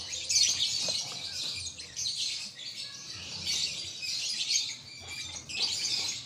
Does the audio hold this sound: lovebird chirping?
yes